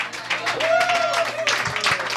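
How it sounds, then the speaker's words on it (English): Audience clapping for a performer at an open stage music night: a brief, close burst of applause with a voice calling out over it. "Put your hands together for Corey, everybody"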